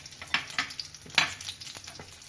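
Garlic sizzles and crackles in hot oil as a Bengali-style tomato chutney gets started, with short bursts of frying hiss and stirring over a steady low background.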